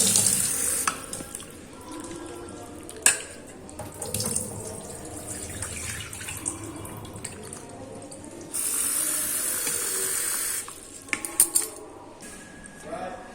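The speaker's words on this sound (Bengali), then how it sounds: "প্রথমে আমি চিকেনটা ভালোভাবে পরিষ্কার করে ধুয়ে নেব" Raw chicken is rinsed under a running kitchen tap, with water splashing in bursts into a sink and a few soft clinks of dishes between the flowing stretches.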